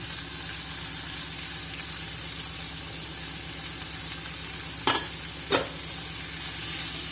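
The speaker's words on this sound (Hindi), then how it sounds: "अब इसके अंदर ये टमाटर और हरी मिर्ची ऐड कर देंगे। और साथ ये सारे मसाले।" Tomatoes, green chilies and spices go into frying stuffing for stuffed tinda, with a constant close sizzle and two short louder splashes of frying as the ingredients hit the pan.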